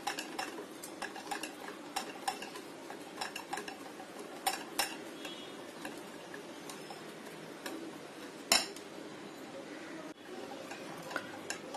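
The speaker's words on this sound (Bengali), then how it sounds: "আমি ব্যাটারটাকে 5 মিনিট হুইস্কি দিয়ে এভাবে নেড়ে চেড়ে নিয়েছি।" Beguni batter being whisked in a bowl, a quick run of light, rhythmic metallic ticks and taps from the whisk that continue steadily, with one sharper knock near the end.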